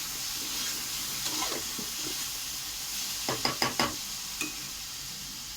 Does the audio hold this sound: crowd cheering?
no